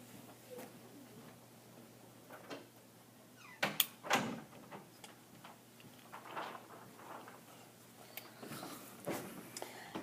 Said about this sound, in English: Just close the door a little bit.